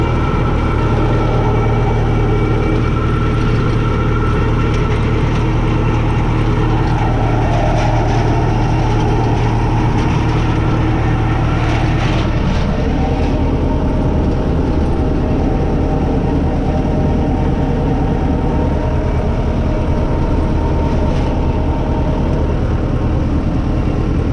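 Loud, constant engine drone fills the enclosed cab of a Ford 7600 tractor, a heavy low rumble with rattling and vibration that barely changes throughout.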